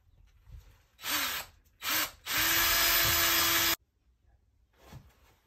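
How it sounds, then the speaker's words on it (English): A power drill whines loudly in two short bursts, then one long steady run drilling through a metal bracket for a diesel heater install, stopping abruptly into quiet. "which I'm going to drill through now."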